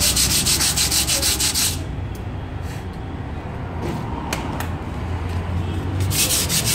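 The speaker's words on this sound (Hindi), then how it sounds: "ब्रेक पैड क्लीनिंग, देख सकते हो। ये ब्रेक पैड है, ये पॉलिश पेपर है" Brake pad from a Maruti Suzuki Ciaz being rubbed with polishing paper during servicing, a steady gritty scraping that runs loud at the start and end with a quieter stretch of scratchy strokes in between, no talking.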